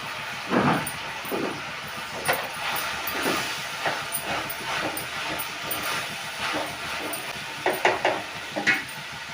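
Mushroom pieces sizzling and hissing as they hit a hot pan of tomatoes for a mushroom thokku, with stirring scrapes and clatter, steady and close, no talking.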